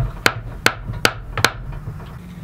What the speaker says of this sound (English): Now we're hammering it in.